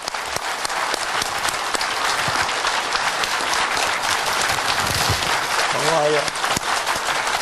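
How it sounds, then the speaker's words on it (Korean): An audience gives warm, sustained applause to welcome the parents at a gathering, dense clapping throughout with a brief spoken thanks near the end. "하여튼 제 뜨거운 박수로 부모님을 환영하겠습니다."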